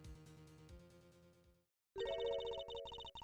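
A phone call rings out in the video game Ace Attorney Investigations 2: Prosecutor's Gambit: bright electronic ringtone tones play, break off into a brief silence, then return louder with a steady, chiming pattern.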